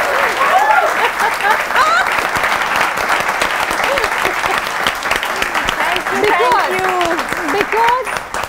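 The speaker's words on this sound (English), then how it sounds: "I just want us to start with a round of applause for Vidya Balan" A studio audience applauds steadily for actor Vidya Balan, dense clapping running throughout, with cheers and voices rising over it near the end.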